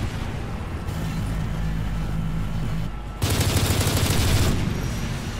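A sentry gun fires in Call of Duty MW3, rapid bursts of automatic gunfire that swell into a louder, denser volley over a steady rumbling backdrop.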